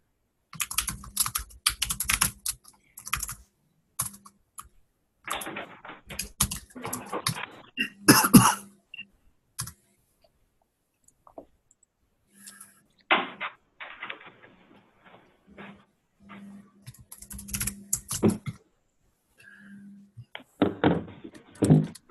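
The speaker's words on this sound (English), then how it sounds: "while I'm sitting here typing and stuff" Someone types on a computer keyboard in bursts of close, clicky keystrokes separated by pauses, with an occasional cough, throat clearing and soft thunk in the background.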